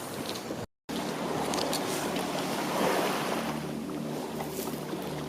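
On Fisherman's Beach in Ku-ring-gai Chase National Park, gentle waves keep up a steady wash with light wind, broken by a brief dropout near the start.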